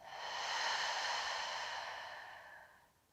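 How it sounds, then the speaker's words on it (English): A slow, soft exhale out through the mouth during a relaxing yoga breathing exercise, a long breathy whoosh that swells and then tapers off over about three seconds, quiet and close. "Deep breath in through the nose. Out through the mouth."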